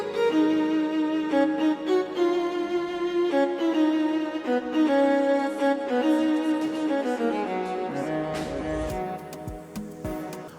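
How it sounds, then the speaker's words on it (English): A violin solo programmed in FL Studio for an Afrobeats track, bright sustained melodic lines over a full backing mix, loud and continuous, tapering near the end. "I have a violin solo, and this solo actually played at almost the end of the song"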